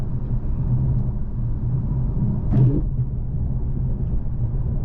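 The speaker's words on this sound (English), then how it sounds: "We're coming up to our cattle guard." A 2024 Lexus LC500h hybrid sports car cruises with a steady low road rumble inside the cabin, then crosses a cattle guard, giving one brief muffled thump and rattle before the drone settles again.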